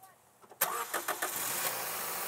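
A car engine driven by a 3D printed belt cranks over with a sudden loud burst, then sputters through a few uneven pulses before settling into a rough, steady running roar close by.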